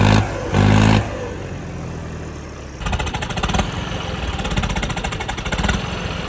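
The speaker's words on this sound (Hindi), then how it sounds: "चलो चलो साउंड सुनो टर्बो की।" A turbocharged engine revving hard, with short loud bursts early on, then a rough, throbbing, rattly roar that swells and holds near the listener.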